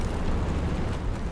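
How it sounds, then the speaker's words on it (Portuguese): A grenade blast in a World War II shooter game, heard as a loud, sustained low rumble lasting over a second with a broad, roaring body and no talk over it. "Joguei granada, cuidado aí."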